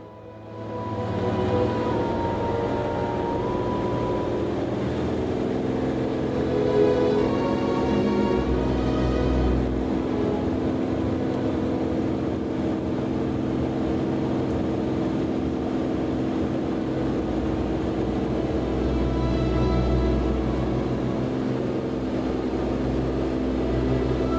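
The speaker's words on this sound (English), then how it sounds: "we apply it full power and start the takeoff roll" The N2500T aircraft engine runs at full power through the takeoff roll, a loud, steady, continuous drone with sustained tonal hum and broadband roar that holds level for over twenty seconds, with no talking.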